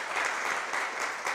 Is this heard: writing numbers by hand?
no